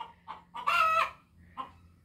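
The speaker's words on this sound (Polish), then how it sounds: "No nie wytrzymam z tą kurą." A hen in a stable clucks close by, a few short clucks followed by one louder drawn-out squawk, then another brief cluck, with quiet pauses between.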